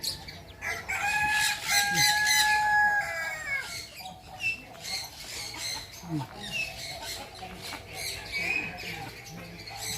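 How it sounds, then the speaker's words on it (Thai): A bantam rooster crows at a bird park, a loud drawn-out call with clear rising harmonics, surrounded by clucking and other birds in the background. "อันนี้ก็ไก่แจ้"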